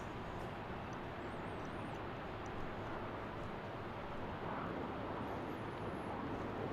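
A Delta Boeing 737-900 takes off from Salt Lake City airport, a steady, broad jet roar held at an even level for several seconds, heard from a distance with no talking over it.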